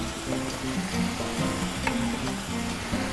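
Tomatoes drop into a hot pan with cardamom and other spices for lamb lollipops, and a steady, loud sizzle and crackle runs throughout, with no one speaking.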